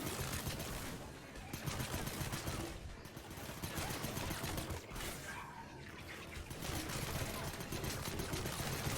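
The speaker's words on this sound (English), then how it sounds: "Nope, just gunfire." Video game gunfire from Mass Effect 3 crackles as dense, continuous bursts of rapid shots at moderate level across the whole stretch, with brief lulls in between.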